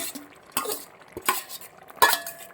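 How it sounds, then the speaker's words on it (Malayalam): Onions being stirred in a pan for a Kerala-style okra curry, with a few separate scraping strokes of a spoon against the metal over a faint low sizzle, close and without talk. "ഉള്ളി ഇട്ട് ഇളക്കും."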